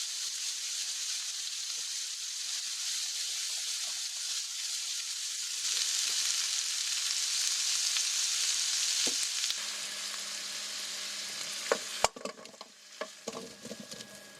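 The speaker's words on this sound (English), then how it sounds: "She uses a frying pan to fry the ingredients" Steady broadband sizzle of ingredients for Japanese curry with wagyu beef frying in a frying pan, continuous and fairly close, with a few sharp clinks of utensils against the pan near the end.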